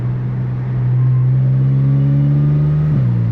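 Supercharged Audi S4 engine revving, a loud sustained drone rising steadily in pitch with a high supercharger whine layered above, then dropping near the end.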